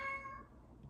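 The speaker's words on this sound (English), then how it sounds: "That's my cat Salem just saying hello." A house cat gives a single short meow, close and clear, trailing off quickly into a quiet room.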